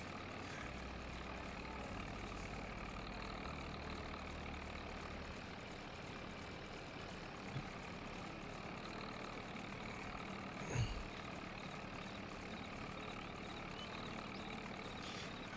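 A tractor engine idles steadily in Farming Simulator 22, a low continuous drone at an even level throughout, with a faint clunk midway and no talking over it.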